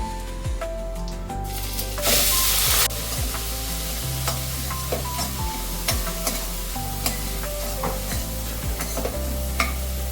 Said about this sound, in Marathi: तो तडतडला की आपण लगेच कांदा टाकून घेऊया.